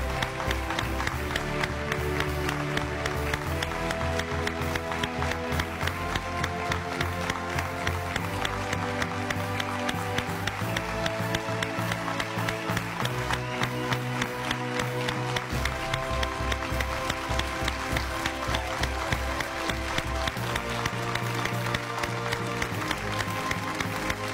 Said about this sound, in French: On va l'applaudir ici pendant une minute.